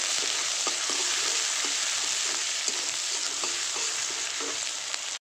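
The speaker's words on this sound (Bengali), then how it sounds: "পেঁয়াজ আমি ভালো করে ভেজে নিয়েছি।" Chopped onion with a little salt frying in a pan, a steady loud sizzle filling the whole stretch with occasional soft scrapes of stirring mixed in.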